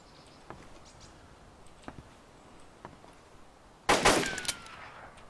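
Gunfire from the survival shooter DayZ Standalone at the Elektro hospital: after faint scattered ticks, a loud, close burst of rapid shots erupts and quickly fades.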